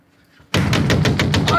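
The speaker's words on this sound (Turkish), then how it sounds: "Kapıyı kıracaksın." Rapid, heavy pounding on a door at home, about eight loud close knocks in a quick steady rhythm following a quiet moment.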